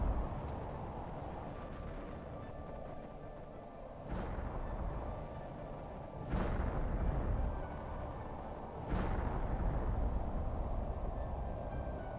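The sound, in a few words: rocket launch in the video game Planet Crafter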